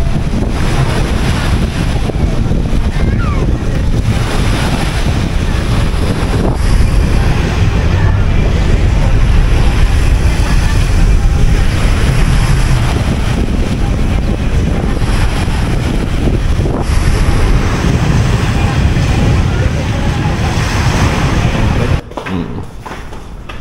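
Loud, constant roar of strong ocean waves crashing at high tide, with wind buffeting the microphone, steady and unbroken throughout with no voices.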